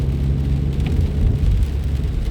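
Rain drums on a car in Germany while it drives, a steady loud wash of rain and road noise with a low engine rumble beneath, no voices.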